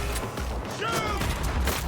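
Close-range gunfire in Cyberpunk 2077, a quick burst of several sharp shots layered with game effects and someone talking over the action.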